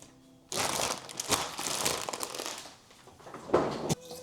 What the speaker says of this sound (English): the rest of them, I just like to put into Ziploc bag.